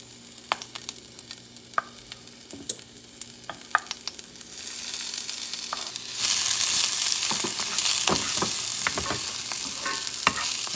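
Peppers and onions frying in butter in a pan sizzle up close, with scattered stirring clicks and scrapes at first, then a louder, denser sizzle for the second half.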